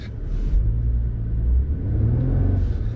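Engine of a manual-transmission car revving unevenly as the driver works the clutch, a steady close low rumble rising and falling over three seconds with no talk.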